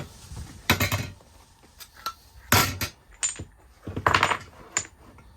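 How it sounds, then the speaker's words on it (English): Metal clamps being popped off an 8-ounce and a 7-ounce Slinky Kate fishing weight mould, giving several sharp close clanks and clicks in irregular bursts, with quieter handling rattles between them. "So what we'll do is we'll just pop the clamps off."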